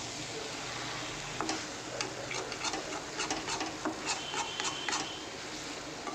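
Hilsa fish head and taro leaf curry is stirred in a pan, with a spoon scraping and tapping in irregular clicks over a steady, close sizzle.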